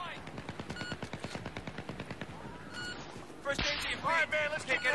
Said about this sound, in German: Wer kann da bitte schießen auf mich?